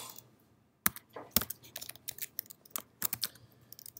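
Irregular clicks and clacks of fingers typing on a computer keyboard while coding during a computer science lecture, fairly close and crisp, with bursts of keystrokes and short pauses in between.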